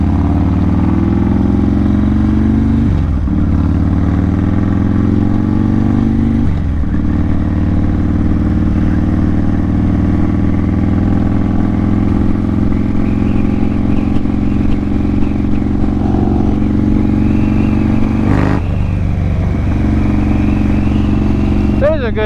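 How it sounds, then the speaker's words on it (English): Twin Cam motorcycle engine with a loud rocker box drones steadily while riding, a loud, constant mechanical rumble with brief shifts in tone and a voice talking over it. "Could just be a loud rocker box that the twin cams are cursed with."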